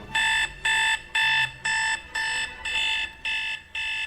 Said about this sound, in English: The generic alarm.